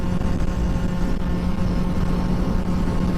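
A Honda Ruckus scooter engine runs hard at high revs on a speed run, a loud steady drone with wind noise and no pauses.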